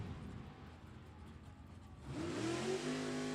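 A drag race car, an '87 Buick Regal, launches at full throttle on the strip, its engine roaring and revving sharply upward in pitch after a steadier rumble, loud and close.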